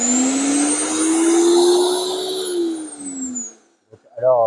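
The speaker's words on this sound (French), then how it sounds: "je vais le démarrer" A Parkside garden shredder motor starts up and runs with a loud, steady electric whine that rises slightly in pitch, then winds down and stops, followed by a brief voice.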